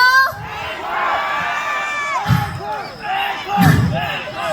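A concert crowd shouts 'encore' and cheers in loud rhythmic bursts, swelling twice to peaks, with voices mixing together in a large space.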